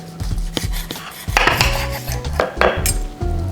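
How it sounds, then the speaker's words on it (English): A knife and fork work through a cooked filet mignon on a plate, with repeated clinks and scrapes of cutlery against the dish, close and fairly loud, no talking. "let's go ahead and cut open our steak and see how we did here"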